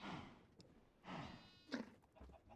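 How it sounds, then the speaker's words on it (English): Horses in the Minecraft video game: a few faint, drawn-out nickering and snorting calls separated by short pauses, quiet and with no talking. "Greedy, greedy horses."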